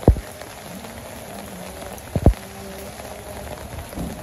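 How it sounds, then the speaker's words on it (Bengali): Moderate village rain falls in a soft, steady patter, with a couple of brief knocks and faint background sounds. "মোটামুটি ভালো বৃষ্টিও বানছে।"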